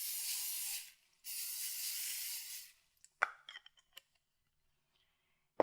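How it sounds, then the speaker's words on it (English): Two short hissing bursts of non-stick cooking spray are sprayed onto walnut and rosemary crusted salmon, close and clear, followed by quiet light clicks and taps of handling in a near-silent kitchen. "we're going to spray it with a little bit of non-stick cooking spray"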